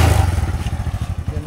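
A motorcycle engine sputters close by in a short burst, with rapid rhythmic pulsing thumps that fade slightly toward the end.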